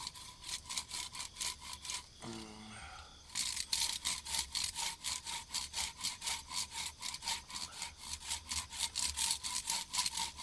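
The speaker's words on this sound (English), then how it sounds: "I'm just letting the saw kind of do its thing" A Silky pull saw cuts wood for a baton with rapid, rhythmic rasping strokes close by. The strokes stop briefly, then resume steadily.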